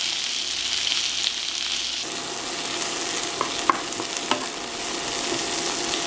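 Chopped onion frying in oil in a frying pan, giving a loud, steady, close sizzle with a few scraping stirs and light clicks partway through.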